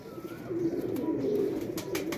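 A Teddy pigeon coos in a soft, continuous low murmur of rolling calls, close by and steady over a couple of seconds, with no talking.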